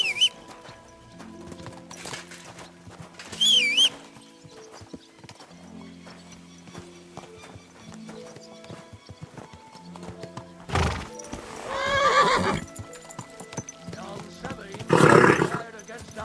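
Horses ridden in Kingdom Come: Deliverance 2: steady, close clip-clop of hooves with loud neighs and whinnies breaking out near the start and twice toward the end, under a murmur of low background sound.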